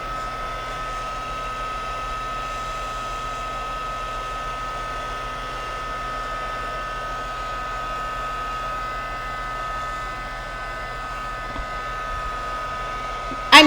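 A hair dryer drones steadily and fairly loud while drying acrylic paint on a flower painting, a constant motor hum with airy rush and no pauses, then a brief knock at the very end.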